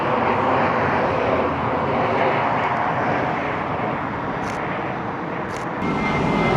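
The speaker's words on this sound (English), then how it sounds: "The next plane is Lufthansa going to Frankfurt." A Lufthansa airliner bound for Frankfurt passes over Heathrow, a steady broadband jet roar that stays loud and fairly constant throughout, with no voices.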